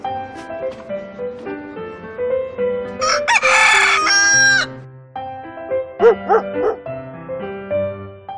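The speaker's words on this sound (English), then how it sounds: "rooster." A rooster crows from a toy animal sounds box, one loud, strained cock-a-doodle-doo in the middle amid other short animal calls and electronic tones.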